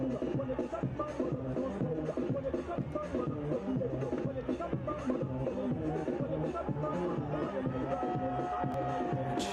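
Steel Army supporters massed behind the goal at a Pittsburgh Riverhounds soccer match, a rumbling crowd with rhythmic chanting and drumming pulses, steady and moderately loud over the whole stretch.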